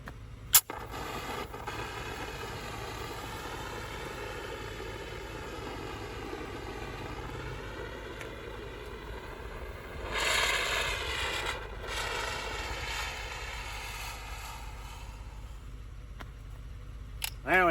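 A 5-pound General fire extinguisher with an extra-long hose discharges in one steady, sustained hiss lasting most of the clip. It swells briefly midway, with a sharp click near the start and another at the end.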